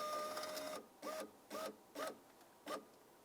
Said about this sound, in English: Now we can start bringing the window regulator up to the position where we can access through this hole